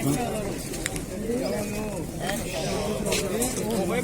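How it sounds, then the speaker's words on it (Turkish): Pigeons coo in low, rolling murmurs throughout, close by at a busy bird market, with people talking over them. "Kuşlar"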